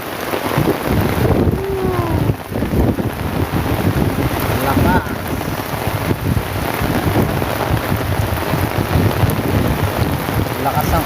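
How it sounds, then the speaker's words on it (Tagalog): Heavy rain pours down in a dense, continuous roar, loud and close, with gusty rumbling and occasional faint voices beneath it. "ang lakas ang ulan no oh."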